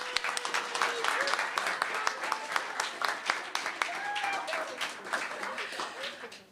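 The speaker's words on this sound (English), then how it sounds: "If we could get one last round of applause for Health for All." Audience applause at a university Hult Prize qualifier event, with sharp individual claps and some cheering mixed with background voices, holding at a moderate level throughout.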